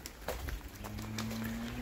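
A cow on a farm gives one long, low moo that rises slightly in pitch, close and clear over soft rain and outdoor background noise.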